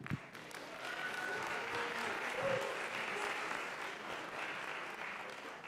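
An audience at a conference summit on human trafficking breaks into warm, sustained applause welcoming panelists, with steady clapping from a sizable crowd heard from a distance.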